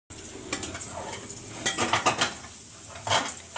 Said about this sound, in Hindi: तो बस अभी तड़का लगेगा